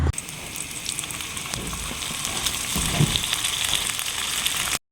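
Corned beef sautéing in a pan with garlic and onion, a steady close sizzle and crackle of frying that runs evenly throughout with small spits and pops, no talking.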